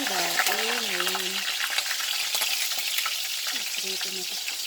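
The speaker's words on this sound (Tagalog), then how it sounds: "Prito na tayo ng daing" Dried salted fish (daing), soaked a day beforehand, frying in hot oil in a home kitchen: a steady, dense sizzle and crackle throughout, with a voice briefly talking over the start and again near the end.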